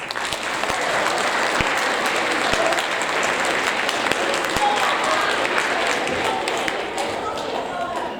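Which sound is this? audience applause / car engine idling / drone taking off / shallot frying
audience applause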